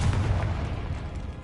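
A Confringo spell explosion in Hogwarts Legacy bursts loud and close as a deep, booming blast with a rumbling tail.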